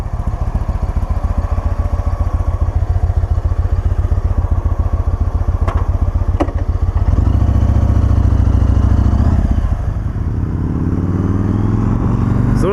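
Up close, a 2015 Yamaha Raider bullet cowl motorcycle idles with a loud, even V-twin pulse, then revs into a heavier roar for a few seconds before easing back to idle.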